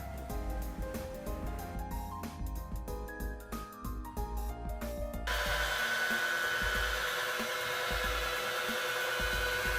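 A stone honing machine works a marble countertop, giving a steady, loud whirring drone that becomes a dense, broad grinding hiss partway through.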